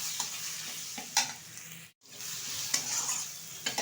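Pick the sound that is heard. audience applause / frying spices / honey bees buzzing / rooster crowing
frying spices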